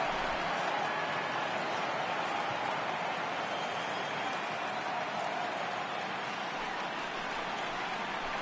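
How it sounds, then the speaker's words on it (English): A dense, steady crowd murmur fills a ballpark in the MLB 18 baseball video game during a World Series game between the Indians and Cubs, a broad wash of noise that holds unchanged throughout. "I can hear the crowd murmuring now, wondering if he hit him on purpose"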